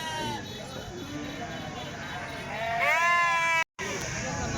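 Sheep bleat in a few drawn-out, wavering calls at a busy rural livestock market in Kadiri, India, selling sheep and rams ahead of Bakrid, with people talking steadily over the constant crowd noise.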